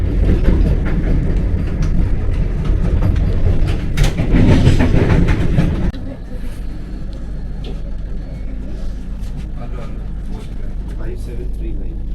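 Deep rumble of a Vande Bharat train moving off, heavy low-end roar with clatter that drops suddenly to a quieter steady hum, a voice talking underneath.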